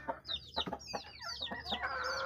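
A backyard chicken with a cold clucks repeatedly, a string of short throaty clucks and hoarse rising calls at close range, uneven in rhythm and moderately quiet.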